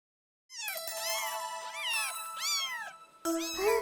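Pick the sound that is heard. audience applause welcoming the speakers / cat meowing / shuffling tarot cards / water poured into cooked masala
cat meowing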